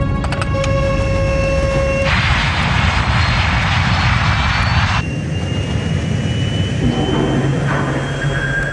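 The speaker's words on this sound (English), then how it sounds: "Captain Caviedes applies full throttle, burning up more of the plane's precious fuel" Airliner jet engines roar at full throttle during a low approach with falling fuel, a loud steady broadband rush with a whining tone that surges up midway, then eases back to a lower drone.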